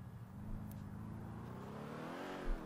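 A car driven along in the video game GTA V during a police patrol mod, giving a steady, continuous engine drone that rises slightly in pitch, heard alone without talk.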